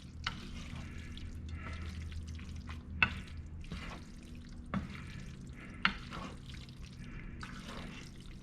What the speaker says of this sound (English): I'm just gonna mix that up in there